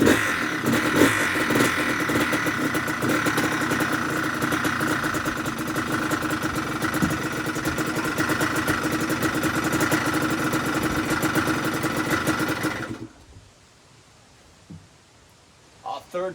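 Yamaha Blaster two-stroke ATV engine running after a kick start with the choke on, a loud buzzy, raspy idle with a crow cawing nearby, then the engine cuts out abruptly, leaving near-quiet with a couple of brief knocks.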